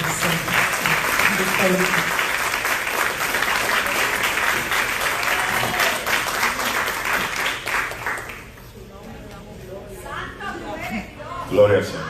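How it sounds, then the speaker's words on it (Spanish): A church congregation applauds loudly and steadily for about eight seconds, the clapping dense and close, then it fades as a voice speaks briefly over quieter room sound. "Así que lo vamos a recibir con un fuerte aplauso en el nombre del"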